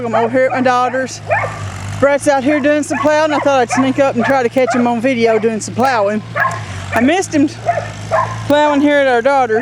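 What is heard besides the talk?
dog barking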